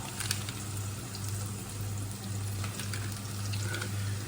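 Chicken wings frying in a pan for adobong pakpak, a steady close crackling sizzle with faint scattered pops and a low hum underneath, no voices.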